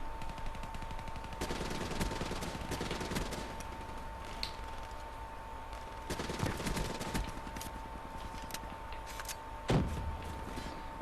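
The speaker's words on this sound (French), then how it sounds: "Donc ça c'est un fusil d'assaut que j'apprécie vraiment." Assault rifle fire from the video game Black Ops 3 on Xbox One, heard as repeated bursts of rapid automatic shots over a steady game soundtrack with a constant tone, with sharp louder cracks near the end.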